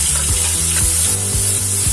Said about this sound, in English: Now add chopped onions